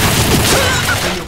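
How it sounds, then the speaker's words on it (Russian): A loud, close grenade explosion in the Point Blank shooter game rolls into a broad, rumbling blast that fills the moment and decays slowly, with no clear talk over it. "Граната! Граната! Сзади, сзади, Мася!"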